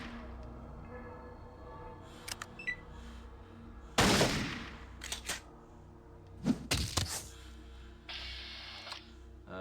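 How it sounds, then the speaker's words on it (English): Gunfire in the Fallout 1 video game as a rad scorpion is shot: a few sharp, loud game shots with short bursts around the middle, separated by quiet stretches. "we're going to shoot this rad scorpion in the brain"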